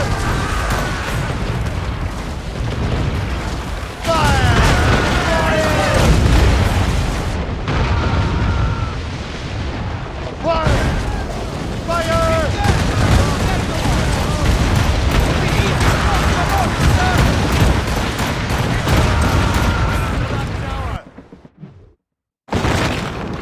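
Ship cannons firing in Assassin's Creed Rogue in a naval battle, with loud repeated booms and rumbling volleys through most of the stretch, shouted commands over the top, and a brief drop to near silence near the end.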